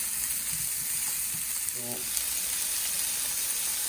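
Chicken chow mein ingredients frying in a hot pan while being stirred and mixed, giving a steady close sizzle with a few soft scraping strokes across the short stretch.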